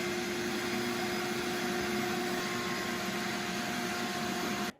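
Vacuum cleaner sucking debris from the gaps between 133-year-old wood floorboards, a steady loud whine with broadband hiss running unbroken for nearly five seconds, then cutting off.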